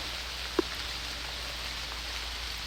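Rain falls steadily in the woods, a soft, even hiss that fills the air, broken by a single faint tap near the start.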